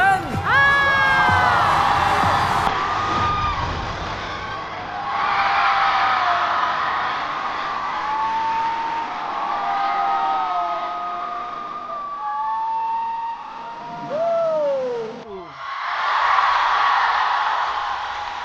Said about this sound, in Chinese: 让我们掌声欢迎大老师露丝带来的开场秀表演。